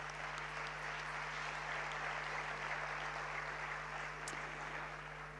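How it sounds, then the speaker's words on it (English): Audience applauding at a conference talk, a faint, steady wash of clapping from a distant crowd with a low constant hum beneath it. "So I think this agreement needs a big applause"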